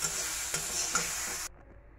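Lochchi fish frying in hot oil in a pan as it is stirred, a steady close sizzle with a few louder scrapes of the spatula before the frying noise cuts off abruptly, leaving faint low background sound.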